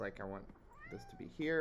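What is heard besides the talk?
pet cat meowing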